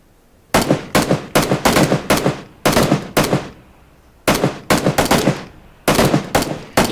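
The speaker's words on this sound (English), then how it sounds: "I think I'll probably make some few pot shots in order to ambush him." Gunfire in the video game Battlegrounds comes in several loud, sharp bursts of rapid shots. Each burst holds three to five cracks, and short quiet gaps separate the volleys.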